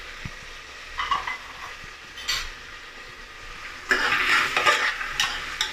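A spoon scrapes and stirs beans, carrots, potatoes and peas in a pan for bisi bele bath, starting with a few light clinks and sizzles, then turning into louder, busier sizzling stirring near the end.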